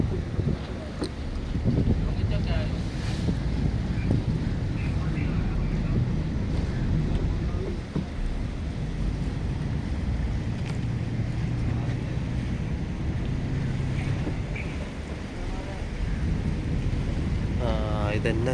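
A fishing boat's engine rumbles low and steady while the boat maneuvers to dock at sea, mixed with constant wind buffeting the microphone throughout.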